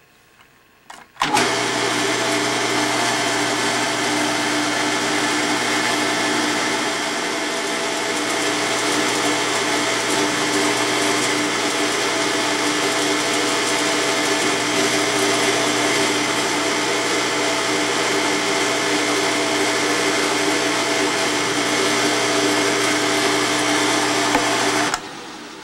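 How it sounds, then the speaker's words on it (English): A drill boring a number 38 tap hole in the valve chest of an 1880s-style model steam engine, a steady high-pitched machine whine starting abruptly and running evenly for over twenty seconds before cutting off. "Now we're going to drill valve chest mounting hole number 1 with the number 38 tap drill for a 540 thread."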